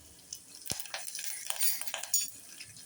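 Garlic and curry leaves tempering in hot oil for masoor dal amti give a soft, crackling sizzle mixed with light clinks and scrapes of a utensil against the pan, quiet and close.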